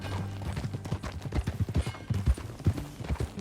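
Hooves clip-clop in a quick, uneven galloping rhythm in Red Dead Redemption 2, close and fairly loud, with no voices over it.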